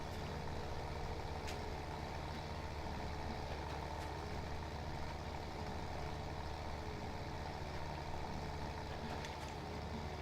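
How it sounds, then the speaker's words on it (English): An old-generation Massey Ferguson tractor engine in Farming Simulator 2017 runs as a steady, loud, low diesel drone with no breaks, with nobody talking over it. "Sounds nice, the tractors sound nice"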